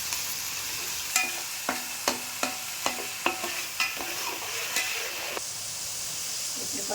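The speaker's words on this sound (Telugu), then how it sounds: "నూనె తర్వాత ఉల్లిపాయలు వేసాం కదండి, వేగుతున్నాయి" Onions frying in oil for a red lentil khichdi, a steady sizzle and hiss with a series of sharp spoon-against-pan stirring knocks at regular intervals, loud and close, no talking.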